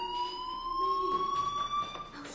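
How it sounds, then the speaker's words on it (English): A school fire alarm in the game Life Is Strange rings with a steady, piercing electronic tone that holds throughout, moderately loud over faint background sounds. "Hey, do you hear that fire alarm?"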